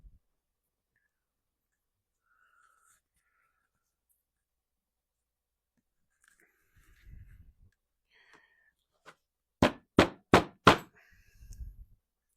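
A small hammer taps pins into a handmade knife sheath in a workshop: four sharp, evenly spaced knocks close together, with soft handling noises before and after.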